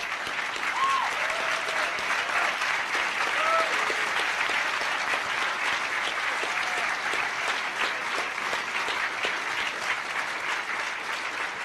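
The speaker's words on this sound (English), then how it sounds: "I would like to applaud every one of the people in the red shirts" Hacker conference crowd applauding red-shirted staff at the closing ceremony, a long, loud, unbroken round of clapping with scattered whoops and cheers rising through it.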